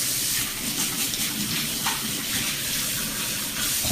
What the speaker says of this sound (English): now I have to wash my hands again